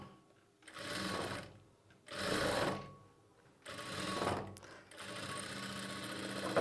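Sewing machine stitching lining onto a blouse, three close bursts of rapid whirring stitches separated by short pauses, with a longer run at the end.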